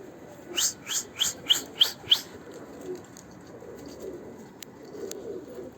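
Pet pigeons in a coop coo in a quick run of six rhythmic calls close by, then fall to softer scattered murmurs and small clicks over low background hiss.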